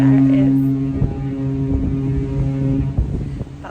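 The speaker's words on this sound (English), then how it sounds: "That's our foghorn again" Foghorn of the cruise ship Discovery Princess, a deep sustained blast out at sea that is loud and steady for a few seconds amid wind noise before fading.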